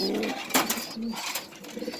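Maxi racer pigeons at a farm coop give soft, brief coos and rustles, close by, over a short stretch of low background noise.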